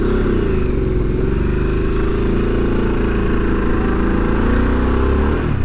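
A 2022 Harley-Davidson Sportster S motorcycle engine rumbles loud and close throughout while being ridden on the road, a steady deep throaty drone with slight swells in pitch and no talking.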